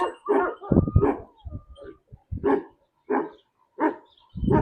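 A Kangal dog named Mavzer, shedding its coat, gives a close series of about eight short, sharp barks and yips separated by brief pauses, with no voices.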